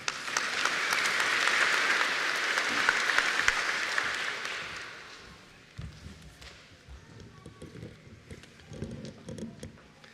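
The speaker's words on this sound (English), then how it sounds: "give Mr. George a warm round of applause." An audience at a college graduation ceremony bursts into applause, loud at first then fading over about five seconds, followed by footsteps and light shuffling in the hall.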